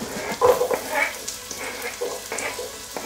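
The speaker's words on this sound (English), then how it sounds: "With your butter melting quickly, you want to toss in the onions before the butter burns." Butter melts and sizzles in a pot as onions are tossed in for pepper soup fried rice, giving a close, crackling fry with brief clattering bursts of stirring throughout.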